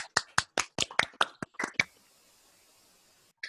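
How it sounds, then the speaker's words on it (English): An online audience applauds a speaker after a mathematics talk: about nine or ten sharp, separate claps in quick succession over a call connection, then near silence and one last faint clap. "let's clap for Amzi before muting yourself again"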